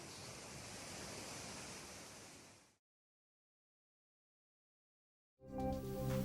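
Waterfall at Boiling Pots and Peʻepeʻe Falls on Hawaii's Big Island, swollen during flash flooding, gives a steady broad roar for a few seconds before cutting to silence, then other sound begins.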